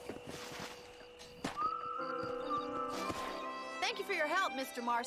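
A horse neighs in the video game Red Dead Redemption: a loud, close whinny with a wavering, descending pitch near the end, following a few hoof sounds and layered over game ambience.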